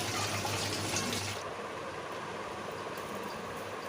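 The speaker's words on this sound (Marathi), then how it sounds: "इथे मी डाळसुद्धा 2-3 पाण्याने मस्त धुवून घेणार आहे" Polished market lentils swished and rinsed in water, with a steady rushing of running water that drops to a softer, continuous wash partway through.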